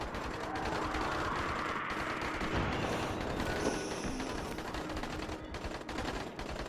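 Sustained rapid gunfire in the video game Dying Light: The Following – Enhanced Edition, a dense, continuous automatic barrage at steady loudness throughout.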